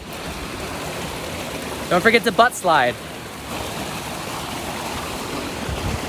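A waterfall rushes outdoors in nature, a steady broad roar of falling water that runs throughout, with a person briefly speaking over it partway through.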